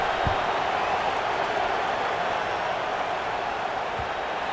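A stadium crowd in the video game College Football 26 makes a steady, dense roar of murmuring and cheering, loud and unbroken throughout.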